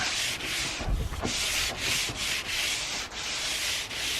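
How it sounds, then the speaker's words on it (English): Steady abrasive rasping as the blade of a pruning tool is scrubbed clean and then sharpened, repeated rough strokes with brief pauses between them, close and fairly loud, no voices. "let's give it a clean and then we'll sharpen it while we're here"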